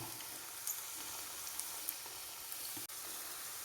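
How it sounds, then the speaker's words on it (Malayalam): Okra (vendakka) frying in hot oil, a steady, moderately quiet sizzle with a few faint pops and one brief dropout, no talking. "ഇത് നമുക്ക് വറുത്ത് കോരണം"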